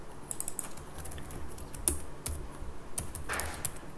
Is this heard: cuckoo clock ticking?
no